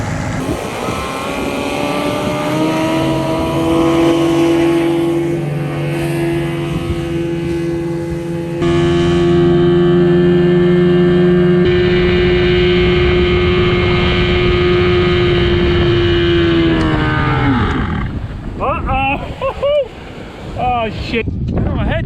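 A 1982 Glasstream boat's Chrysler 100hp outboard runs loud and close, droning unevenly with pitch shifts, then sputters and falters near the end amid wind noise.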